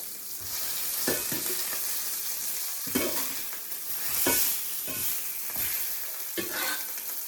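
Batter frying in a hot pan for homemade breakfast pancakes, a steady close sizzle with soft scraping and stirring strokes recurring every second or so, no voices.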